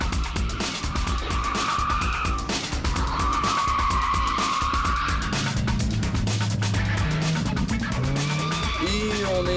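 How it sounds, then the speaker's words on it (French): A drift car sliding sideways on a race circuit at a French Drift Federation event, with long tire squeals over a loud revving engine, continuous and close, with a voice briefly heard. "Le drift, c'est faire partir la voiture du train arrière et essayer de faire la glissade la plus propre possible en prenant le maximum d'angle."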